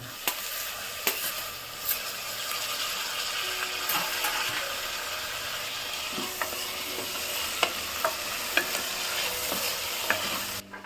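Tomato and chilli frying in oil, a continuous bright sizzle with sharp intermittent clicks and scrapes of a utensil against the pan, close and steady throughout, no talking.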